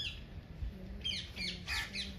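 Small birds give a few short, bright calls in quick succession, fairly close, over a low background rumble, at Jal Mahal.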